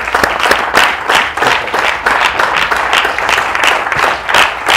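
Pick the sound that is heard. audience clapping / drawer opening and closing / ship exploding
audience clapping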